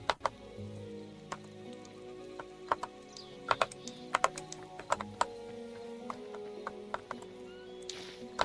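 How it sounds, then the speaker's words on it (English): A computer keyboard clicks with scattered, irregular keystrokes, sometimes single taps and sometimes short clusters, quiet and close over a soft background hum, with no voices. "I'm not sure how much my keyboard, the mic picks it up."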